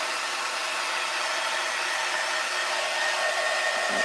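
A hair dryer blows with a steady, close, loud whooshing hiss that continues unbroken throughout.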